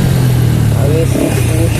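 Engine of a Honda Pop 110 motorcycle revving up close, a loud continuous growling drone that holds steady through a short burst, with a voice talking over it.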